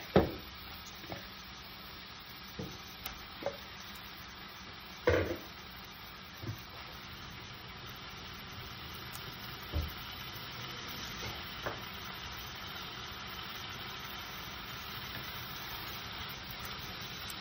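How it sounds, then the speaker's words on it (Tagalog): Chicken browning in a pan with garlic, onions and ginger gives off a faint, steady sizzle, with a few soft clinks and stirring knocks along the way. "i-add ko na yung chicken para sabay silang mag-brown ng garlic, onions, at ginger"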